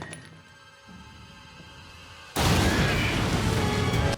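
A bomb explodes in a movie scene: after a quiet, low-level stretch, a sudden loud blast bursts in and holds as a dense, roaring wash of sound through the end.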